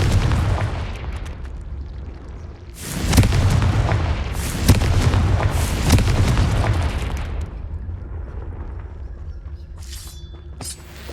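Confringo spell explosions in the video game Hogwarts Legacy: a series of heavy, rumbling booms in quick succession, loud and close, trailing into a fading low roar.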